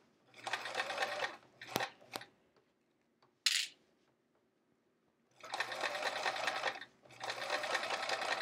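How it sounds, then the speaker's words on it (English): Sewing machine stitching through a thick, bulky stack of folio material, several close running bursts separated by pauses, with a sharp click and short handling noises between. "So we're sewing through a whole pile of bulk now as well, but so far it's going real smooth."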